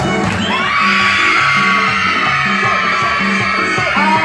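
A party crowd lets out a loud, sustained group yell that holds steady for several seconds over a faint musical tone, with no clear applause standing out.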